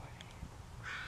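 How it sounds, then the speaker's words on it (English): Crows caw from a tree just beyond the spot, a couple of short calls heard at moderate distance over steady outdoor background noise. "Yeah, crows."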